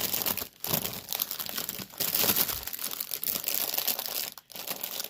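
A cross-stitch supply item being slid back into its plastic bag, giving close, loud crinkling and rustling of thin plastic, continuous with brief pauses, with no voices.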